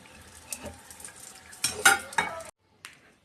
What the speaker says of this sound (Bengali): এভাবে আমি প্রত্যেকটা প্যাটিস ভেজে নিব